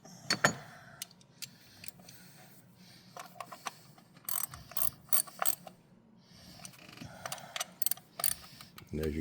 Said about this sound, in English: Screw those back down, tighten them down with a 10mm wrench.